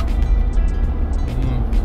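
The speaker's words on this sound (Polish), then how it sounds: "Ciągle to jakieś samochody jeżdżą." Car passing on a narrow road in changeable, rainy weather, heard as a close, steady low rumble of engine and tyres that swells slightly throughout the short moment.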